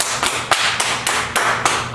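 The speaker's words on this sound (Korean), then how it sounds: "하나님께 영광의 박수" A worshipping congregation claps in unison, sharp rhythmic claps falling roughly every quarter second in a steady beat, close and clear with no talking.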